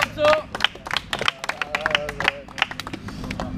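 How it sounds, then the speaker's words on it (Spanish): A crowd at a Spanish-language freestyle rap battle claps and cheers in scattered, uneven bursts, with voices and shouting mixed through the clapping. "¡Aplauso!"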